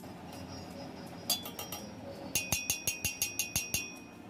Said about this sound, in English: if you guys want to hear the sound of it, how solid it is, then just hear the sound.